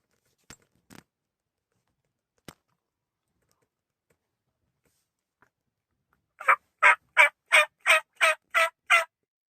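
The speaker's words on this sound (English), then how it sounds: "Right now I'm going to check the turkeys on the posted property, see what's going on with them." Wild turkeys gobbling in a rapid series of eight loud, evenly spaced bursts near the end, following a few faint clicks and near silence.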